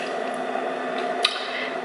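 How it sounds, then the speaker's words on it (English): Fermented peppers with onions are poured onto a seared steak, giving a wet, squishy splatter with small drips and a sharper splash near the end, close up and alone. "grab my pickles, which is just some fermented peppers with onions, and pour that on there"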